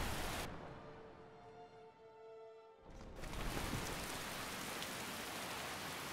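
Steady rain in the video game Skyrim, a broad hiss of rainfall that drops out briefly behind a quiet tonal hum before returning louder and continuing evenly.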